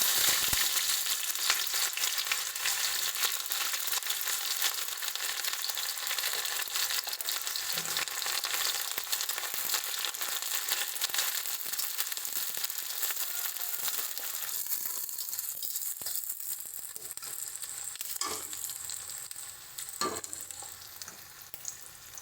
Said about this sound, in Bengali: এবার এখানে আমরা পেঁয়াজটা দিয়ে দিচ্ছি।